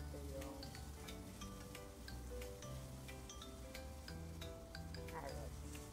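Pork pieces sizzle steadily as they brown in a pan for a Filipino pork menudo, a continuous crackling fry with faint scattered pops throughout.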